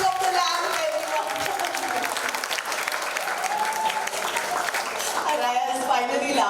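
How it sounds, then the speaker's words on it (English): An indoor crowd at a book launch applauds the ceremonial lighting of the lamp with loud, sustained, dense clapping, while voices and cheering carry over it. "a round of applause for the ceremonial lighting of the lamp, everyone"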